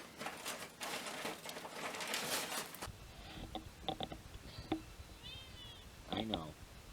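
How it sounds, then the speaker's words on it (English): A cat crinkles paper indoors, giving dense crackling and rustling bursts for about three seconds, then a few scattered, fainter rustles and brief chirpy sounds. "Cat's crinkling some paper."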